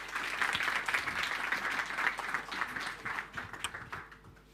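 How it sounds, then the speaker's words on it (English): Audience applause at a conference presentation, a dense wash of many hands clapping steadily and fairly loud throughout, with no voices over it. "So please give them a round of applause."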